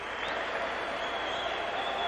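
Sustained crowd applause at an indoor futsal World Cup game in Guatemala, a continuous wash of clapping and cheering, a little quieter and distant, with no break.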